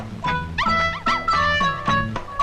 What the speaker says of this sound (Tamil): யோ நாய் இங்க இருக்குதுயா